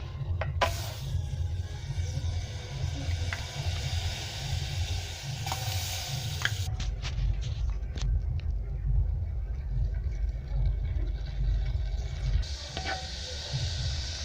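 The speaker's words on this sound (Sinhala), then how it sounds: "ඉතින් මුලින්ම අපි බත් එක හදාගන්න බාජරේට අපේ බටර් ටික දාගන්නවා." Butter sizzling steadily as it melts in a pot, the start of a chickpea biryani rice, with a constant low frying hiss, a few faint clinks and some room noise throughout.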